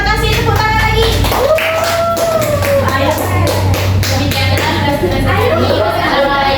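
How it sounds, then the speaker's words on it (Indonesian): Hands clapping in a classroom during a social studies lesson, a steady patter of many small claps mixed with children's voices and a low continuous hum throughout. "tepuk tangan lagi"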